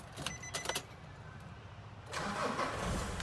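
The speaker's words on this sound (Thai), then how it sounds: "สตาร์ทชึ่งเดียวติดเลยนะครับ" A Nissan car engine cranks briefly and starts on the first try, then settles into a steady close idle, following a few light clicks in a showroom setting with no talk.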